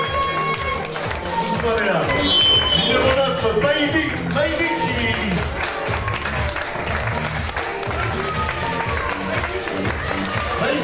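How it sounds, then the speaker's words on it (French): A crowd applauds Puy Foot 43 football players at a street parade, with steady clapping and some cheering underneath a loud announcer talking over a sound system. "mesdames et messieurs, on applaudit très fort"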